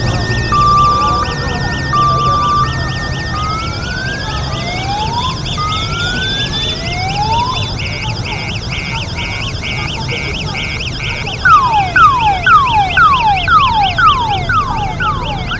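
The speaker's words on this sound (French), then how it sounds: "Seule la sirène du corbillard retentit" A hearse siren wails through a funeral procession for a university student in Benin, its rising sweeps and warbling tones repeating steadily and loudly throughout, shifting to quicker yelps near the end.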